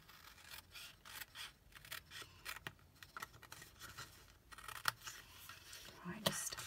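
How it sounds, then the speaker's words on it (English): Scissors snipping through card, a quick series of close, crisp cuts with small rustles of the paper between strokes, faint and fairly quiet. "just cut an edge around there as well"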